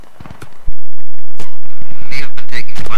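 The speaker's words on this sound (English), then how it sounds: "We have been taking fire from the east." Gunfire in the video game Squad: a sharp, very loud burst of shots and impacts cutting in after a quieter start, followed by scattered cracks and ringing debris, alone without talk.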